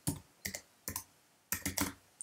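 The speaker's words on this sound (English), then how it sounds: "So I'm going to type" Close, loud keyboard typing comes in distinct bursts of rapid key clicks separated by short silences, with no talking.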